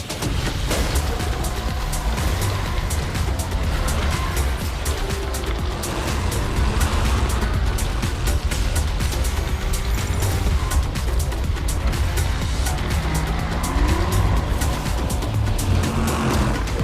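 Race cars in Fortnite Rocket Racing, the Inferno Island season, give a continuous loud roar of engines with tire squeals and skids, dense and unbroken throughout.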